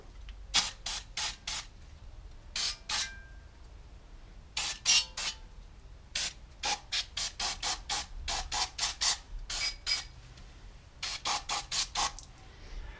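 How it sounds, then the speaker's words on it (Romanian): Repeated short hissing bursts from an aerosol can of brake cleaner during a rear brake pad and disc change on a Skoda Octavia 2, in quick groups of puffs separated by brief pauses, close and fairly loud. "Bremsenreiniger Sprayer,"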